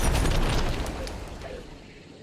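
A thrown dynamite stick blows up in a loud, close burst, a broad roaring boom that fades gradually over about two seconds.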